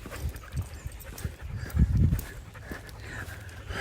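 A dog panting on a hike along a greenway trail, quick breathy pants close by with a few soft bumps and footfall-like thuds, fairly quiet against the outdoor background.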